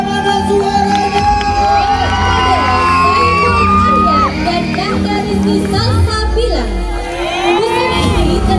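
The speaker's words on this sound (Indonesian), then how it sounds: "beri tepuk tangan yang meriah, mana suaranya?" A lively crowd at a regional dance-costume showcase cheers and whoops loudly, with shrill children's shouts and high, swooping calls in a continuous din throughout.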